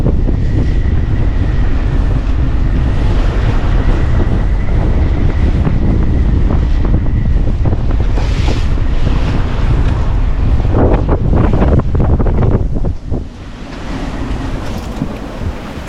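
Strong offshore wind roaring across the microphone with waves and water rushing past a reefed sailboat under way on a passage, loud and continuous, easing slightly near the end.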